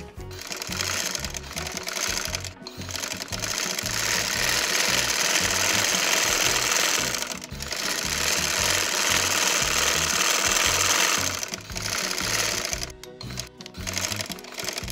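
A sewing machine stitches a narrow strip with black thread onto a baby girl's dhoti salwar, running loud and nearly continuously with a couple of brief pauses.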